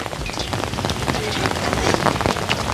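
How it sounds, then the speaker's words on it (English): Heavy rain pouring down outdoors around a cooking pot, a dense steady patter of drops hitting surfaces from start to finish. "rain for days"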